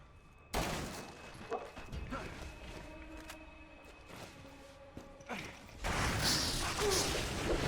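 Gunfire in the video game Resident Evil 6 comes as bursts of sharp shots and rattling fusillades against mechanical game noise, ending in a louder, denser barrage, with a voice speaking at times.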